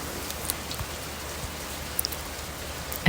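Steady rain falls at night, an even hiss of drops close by with a few sharper drips standing out, alone with no voices.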